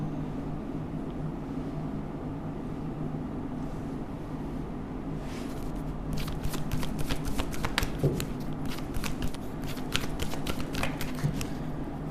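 Tarot cards shuffled by hand, soft and faint at first, then crisp riffling flutters and taps repeating over the second half against a steady low room hum.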